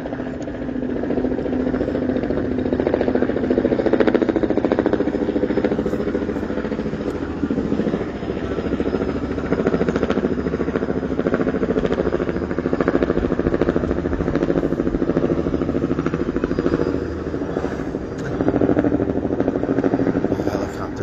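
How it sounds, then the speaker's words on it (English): A helicopter flying overhead drones steadily with a buzzing engine tone and rotor pulse, fairly loud and sustained, with faint voices in the background. "That blasted helicopter again."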